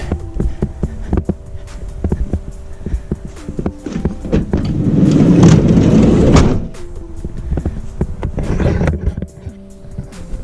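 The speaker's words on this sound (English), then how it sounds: "I got that door still closed, so I'll go and close that." A van's door slides and slams shut during a camper van build, with clunks and rattles before a longer rumbling slide and a solid close, then more handling knocks.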